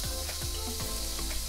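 Onions sautéing in oil in a pan, a soft steady sizzle with faint scraping stir sounds at a regular rhythm, quiet and close.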